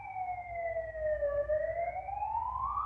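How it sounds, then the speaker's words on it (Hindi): An ambulance siren wails, rising and falling in a slow sweeping tone, steady and moderately loud over a low background rumble. "सायरन की आवाज़ आप भी सुन रहे होंगे।"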